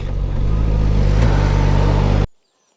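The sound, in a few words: Suzuki GSX-S 1000 GT motorcycle accelerating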